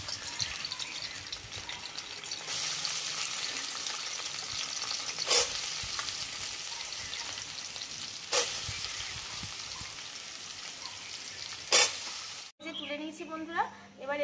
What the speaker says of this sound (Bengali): প্রথমে সয়াবিনটা একটু কড়ায় ভেজে মতো নেবো